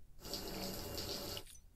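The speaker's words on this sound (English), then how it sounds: "Oh, we're gonna shower." Shower water runs in the Death Stranding video game, a steady rushing hiss that swells in for about a second and a half, then cuts off, with no voices.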